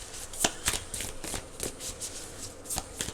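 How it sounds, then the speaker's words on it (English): Tarot cards being bridge shuffled, giving a close, quick series of riffling flutters and soft snaps in an irregular rhythm. "I think I need to do the bridge shuffle."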